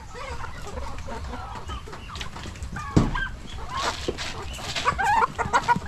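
Large-bodied backyard chickens cluck and murmur close by, with a sharp squawk and bursts of clucking amid rustling and brief wing flaps.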